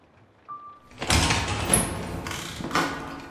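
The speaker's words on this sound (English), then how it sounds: "The maid opened the doors to the back garden." Doors swing open onto a back garden: a brief tone, then a muffled rumbling slide with a soft thud, followed by a breathy rush like a gust of wind, moderately close and with no talk.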